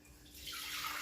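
Four cups of water pour into a saucepan for a pickling brine, a soft splashing stream that builds and grows brighter as it fills, close but quiet, with no voices.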